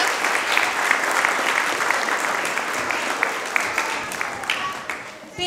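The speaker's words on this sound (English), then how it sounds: "So if we can give a round of applause, even though they might not hear us, to our custodians who helped get this all set up tonight." An audience at an elementary school musical applauds, dense steady clapping from a crowd filling the whole stretch, fairly close and loud, tapering slightly near the end.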